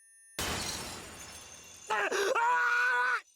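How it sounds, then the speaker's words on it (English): Glass shatters in the Chaos;Child video game, a sharp loud crash followed by a tumbling spray of breaking shards, then a strained, drawn-out vocal groan or scream rises and holds before cutting off. "Suddenly a sound like shattering glass traveled from my ears to the rest of my body."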